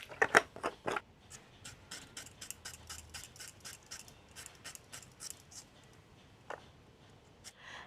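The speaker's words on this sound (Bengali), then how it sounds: "এবারে পেঁয়াজ টমেটোটা কেটে নেব" A knife chopping onion and tomato on a board, producing a series of crisp, quiet taps in an uneven rhythm, with a few sharper cuts near the start and scattered lighter strokes afterward.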